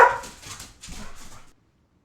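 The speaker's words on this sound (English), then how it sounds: "Dogs are going berserk." Dogs bark in a video game, Genshin Impact: a loud bark up front, then a quick string of yips and whimpering barks for about a second and a half, ending in silence.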